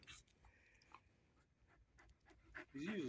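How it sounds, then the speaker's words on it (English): A two-year-old dog pants close by in quick breaths, with a person talking softly in between. "Ozzie. Good dog."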